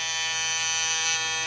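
A JVPro Shadow electric foil shaver runs with a loud, steady, close buzzing hum that does not change.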